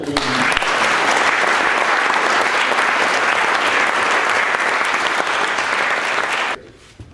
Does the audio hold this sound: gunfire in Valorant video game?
no